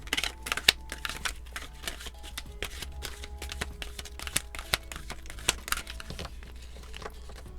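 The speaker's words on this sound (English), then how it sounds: "Let's shuffle them properly." An oracle card deck is shuffled by hand, giving quick bursts of riffling and papery slaps in an irregular rhythm, close and fairly crisp, with no talking.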